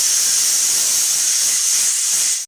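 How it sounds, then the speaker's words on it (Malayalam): A pressure cooker with beef curry inside lets out a loud, continuous steam whistle, a close, hissing shriek that holds steady for over two seconds before cutting off sharply. "നമുക്ക് കുക്കറിൽ വെച്ച് 3 വിസിൽ കേൾപ്പിക്കാം."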